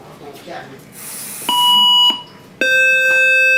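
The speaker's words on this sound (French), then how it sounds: "le second bruit qu'on a entendu, le bip, ça l'indique que le test ne s'est pas complété" Two electronic beeps from a testing device: a short pure tone, then after a brief gap a second, louder and lower beep that holds steady, signalling an incomplete test, over background voices.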